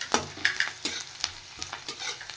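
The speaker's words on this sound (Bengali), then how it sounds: "তেল গরম হয়ে গেছে, এবার আমি পেঁয়াজ দিয়ে দিচ্ছি।" Onions sizzle in hot oil while a spoon stirs and scrapes the pan in quick, irregular strokes, a soft, close frying hiss under each clatter with nobody speaking.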